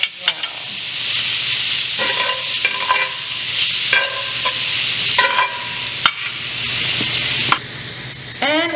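Chopped onions and jalapenos sizzle steadily in leftover bacon fat in a pan for a sweet potato hash, with a continuous frying hiss broken by utensil stirring and scraping sounds throughout.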